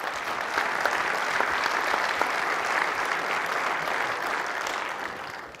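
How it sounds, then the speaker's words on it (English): Conference attendees at a Microsoft Build session applaud in a steady, moderately loud round of clapping from a large seated crowd that holds evenly for several seconds before tapering slightly. "I would just love if you guys could give them a round of applause,"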